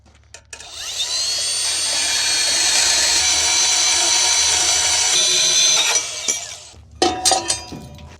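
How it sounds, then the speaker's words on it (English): A Harbor Freight bandsaw cuts through a metal piece in a welding shop, a loud, steady grinding whine holding for about five seconds before stopping, followed by a few clanking knocks of metal. "Harbor Freight bandsaw."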